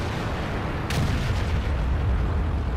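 In the tank game World of Tanks, a shell strikes armor and glances off with a sharp metallic crack over a steady engine rumble, loud and close.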